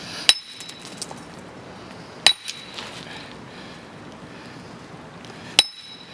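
A chisel on dynamite-fractured rock for a stone wall gives three sharp, ringing metallic strikes spaced seconds apart, with a few smaller ticks and quiet outdoor ambience between.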